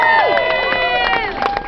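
A crowd at a McDonald's workers' rally for strike delegates cheers with rising whoops and shouted voices, loud and close, throughout a short burst.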